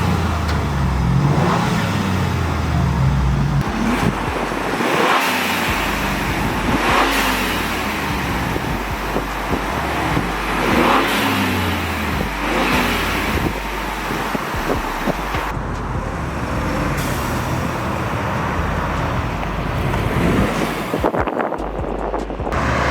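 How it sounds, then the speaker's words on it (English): A Ford Bronco engine revs repeatedly with an aftermarket blow-off valve fitted, loud surging rises and falls with whooshing releases between, recorded close and outdoors with wind noise, no talking. "now that the blow-off is installed, let's go ahead and get some sound clips"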